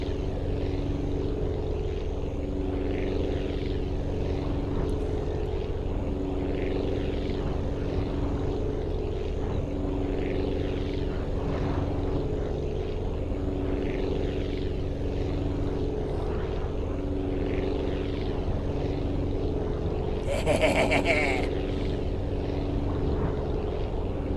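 Propeller plane in flight in the video game Aviassembly, a small aircraft giving a steady, droning engine and propeller hum that holds level throughout, with a brief higher burst near the end.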